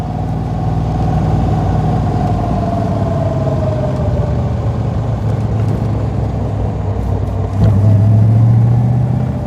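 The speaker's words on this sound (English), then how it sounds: "you're always aware of the transmission noise coming out down there" A Daimler SP250 with a V8 and straight-cut gearbox under way, giving a steady engine drone with a thin whine from the transmission that slowly falls in pitch, then a louder low surge near the end.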